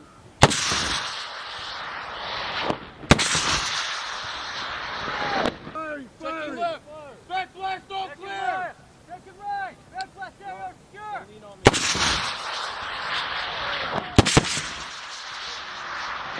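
US Marines fire a Swedish anti-tank missile: a sharp launch blast followed by a long roaring rush of the weapon, with blasts repeated and wind buffeting the microphone between them.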